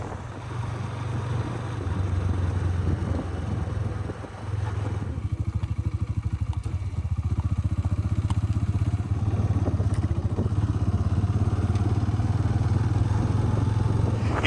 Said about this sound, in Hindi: अभी दिन के वक्त हम बाहर निकले हैं मोटरसाइकिल पे